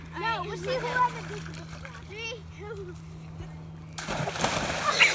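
Children talk excitedly beside a backyard pool before a broad, rushing water splash erupts near the end as someone jumps in, with voices continuing over the churning water.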